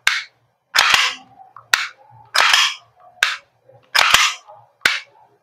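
Umarex Glock 45 Gen 5 MOS gas blowback airsoft pistol by GHK firing seven loud, sharp cracks at uneven intervals, each with a brief bright hiss and slide clack, in a quiet room.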